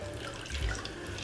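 A Chelsea Sidecar cocktail double-strained through a strainer into a glass, giving a short continuous splashing trickle of liquid, close and moderately loud, with no voices.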